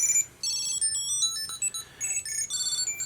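A Tile Bluetooth wallet tracker rings with a bright electronic melody: short chirping tones repeated in quick bursts, close and clear with nothing else around.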